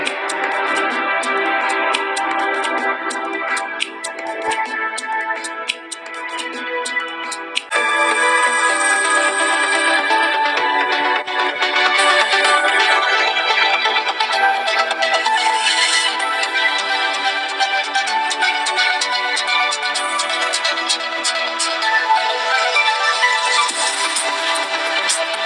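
Music playback through the loudspeaker of a Samsung Galaxy A70 phone, full and steady throughout, with a fuller, brighter section kicking in after a quieter opening; no talking.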